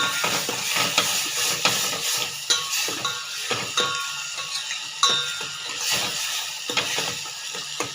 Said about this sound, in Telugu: ఆ పసుపు ఇది ఇలాగ వేయించేసుకోవాలండి